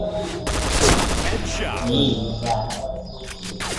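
Rapid bursts of gunfire crackle repeatedly, mixed with game effects and a voice speaking over the action.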